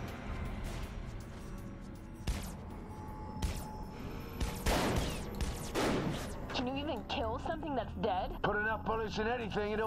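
Gunfire from the Saints Row: The Third video game, a few sharp shots and bursts scattered through the clip, heard under steady game commentary and in-game voices.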